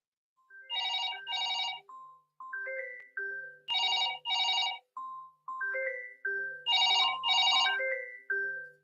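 A telephone rings with a melodic electronic ringtone, clear and fairly close. Bright two-note bursts alternate with lower tones in a repeating pattern, and no voices are heard.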